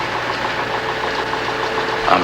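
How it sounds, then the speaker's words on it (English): A ship's engine runs steadily in a film scene, a continuous mechanical throb and knock with a constant rumbling drone that stays loud and even throughout, with no talk over it. "the character Holman loved his engine"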